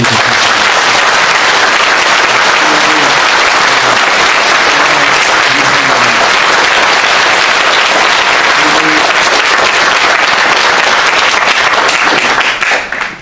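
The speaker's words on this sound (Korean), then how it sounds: "우리 박수 한번 쳐주시죠" Audience at a Catholic protest mass applauding together, a dense, loud, sustained clapping that fills the whole stretch and fades out at the very end.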